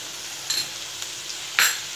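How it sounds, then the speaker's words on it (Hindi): Okra masala with gram flour is stirred in a sizzling pan: a soft, constant fry hiss broken by two sharp spoon scrapes against the pan. "ये देखिए हम इसको अच्छे तरीके से चला लेंगे"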